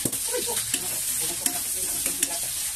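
Pork cubes sizzle steadily as they are stir-fried in a pan for pancit bihon, a continuous loud frying hiss with a few clanks and stirring scrapes, no talking.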